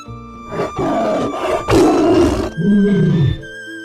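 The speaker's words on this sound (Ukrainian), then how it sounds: "А це тигр. Він речить" A cartoon tiger roars in a series of loud, close growling bursts, with a deeper drawn-out roar closing the sequence and no talk over it.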